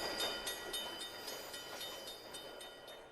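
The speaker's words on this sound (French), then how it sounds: "Le tramway s'arrête place de l'Étoile." A tram coming to a stop, used as a sound effect in an audiobook: faint rail rumble with a regular clicking of wheels over track joints, heard alone and easing slightly toward the end.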